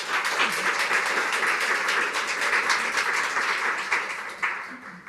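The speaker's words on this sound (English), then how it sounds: "Please welcome our guests with a warm round of applause" A studio audience gives a sustained round of dense clapping to welcome guests at a panel discussion on depictions of mothers in literature and art, steady and fairly loud for the whole stretch with no break.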